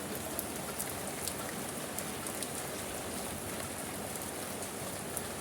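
Rain falls steadily on a surface, an even hiss with scattered individual drops ticking through it; no voices.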